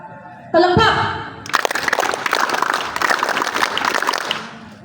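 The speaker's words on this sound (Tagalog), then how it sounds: "Palakpak!" A crowd of Boy Scouts at a basic training course in Siargao bursts into loud, sustained group clapping on command, a dense continuous patter following a brief spoken call.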